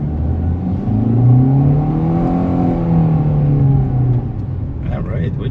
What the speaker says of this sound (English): let's see the off the line acceleration